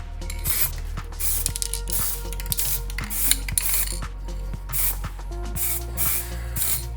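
Short repeated bursts of aerosol spray paint coat a Porsche Boxster 987 steering wheel, a close hiss in a rhythmic series of pulses with faint handling clicks between them.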